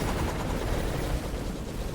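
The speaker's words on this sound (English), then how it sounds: "It's just a few explosions going on." Dense, steady rumble of repeated explosions in the video game Wizard Cats, a continuous low roar with crackling bursts, loud and close throughout with no pauses.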